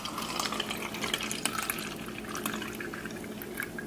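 Strong Kangen water runs from a tap over produce being washed, a steady close rush of splashing and trickling with no voices.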